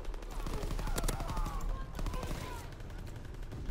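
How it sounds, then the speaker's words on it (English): Rapid bursts of machine gun fire crackle in Call of Duty WWII's D-Day battle, dense rattling shots with scattered gunfire around, loud and close, with voices talking faintly underneath. "I'm going in with a machine gun."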